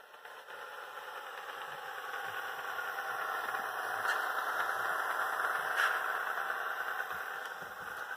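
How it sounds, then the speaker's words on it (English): An EMD 645 diesel locomotive engine sound from an SD40-2 sound decoder drones steadily at close range, a continuous throbbing hum with faint rattling and no voices. "We got the correct engine sound in here now. That is a 645."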